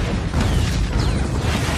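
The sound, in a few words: bag shot until it explodes, movie explosion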